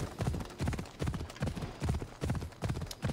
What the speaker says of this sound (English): Alright, at least we've got the horse now.